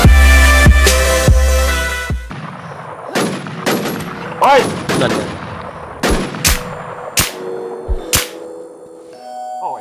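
Rapid gunfire in the shooting video game XIII: loud bursts and single shots crack repeatedly over dense game noise, then thin out into scattered separate reports.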